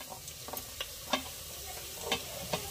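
Goat mutton frying in a pan over a wood-fired chulha, a steady sizzle with occasional sharp stirring scrapes and pops at irregular intervals, close and clear with no talking.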